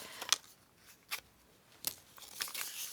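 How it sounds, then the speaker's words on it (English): A paper scrap is folded in half by hand, giving four short, soft crinkling rustles spaced about half a second to a second apart, close and faint against quiet. "So what we're doing here is some very simple paper folding"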